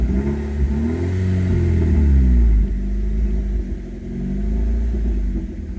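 A 2000 Nissan Sentra engine with idle issues and high mileage rumbles low and steady at close range, roughening and swelling briefly midway before settling back to an uneven idle, with no voices.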